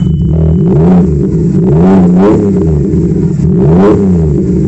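An Audi A6 C6 with a 2.4 V6 engine, freshly repaired, revs up loudly and close by in several rising and falling sweeps, then drops back to a steady idle between pulls.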